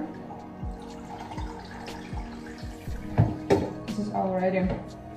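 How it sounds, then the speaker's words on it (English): A little water is poured in a kitchen, with soft running and splashing toward the end. Earlier come dripping sounds and light clinks of dishes, and a voice talks quietly over it. "So I'm putting more, a little bit of water."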